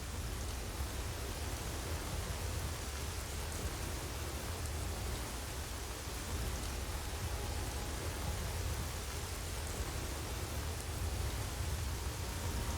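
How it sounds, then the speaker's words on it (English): Steady rain falling in the fantasy video game Enderal: Forgotten Stories, a dense even hiss with low rumble that holds unchanged throughout, no voices present. "And now it's raining."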